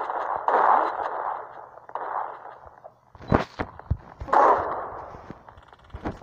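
Sharp gunshots ring out in the Roblox game Prison Life, a few loud isolated cracks mixed with other bursts of game noise and effects.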